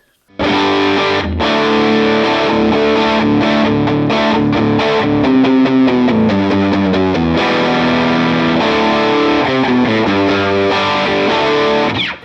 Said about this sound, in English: Let's just crank it all and see what we get.